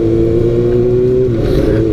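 A 600cc sport motorcycle, a Yamaha R6 or Kawasaki ZX-6R/ZX636, runs around a race circuit, its loud, steady engine drone holding one pitch close by before shifting slightly, with no talk over it.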